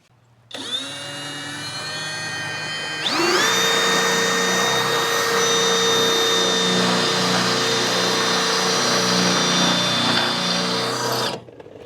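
An electric power drill bores into a dump trailer, its motor spinning up, then rising in pitch and load as the bit cuts, holding a loud steady whine for about eight seconds before cutting off abruptly.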